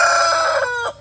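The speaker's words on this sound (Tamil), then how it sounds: "அப்புறம் இது வந்து சண்டை சேவல்," An Aseel fighting rooster on a farm crows loudly at close range, one strong sustained call that cuts off abruptly near the end.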